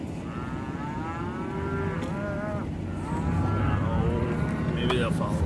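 Cows being herded for pregnancy checking give a string of loud, drawn-out moos, some overlapping, close by. A steady low engine rumble runs beneath and grows slightly louder toward the end.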